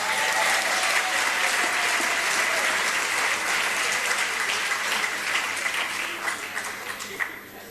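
An audience applauds steadily and loudly throughout, the clapping thinning slightly toward the end, with no speech over it.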